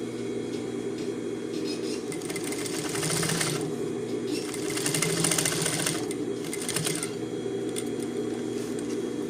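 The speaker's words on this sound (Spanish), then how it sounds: "Vamos a coser la segunda costura." A sewing machine stitches the second seam on a pair of jeans. The motor runs in a loud, continuous rapid whir that swells in brief bursts, with no talking over it.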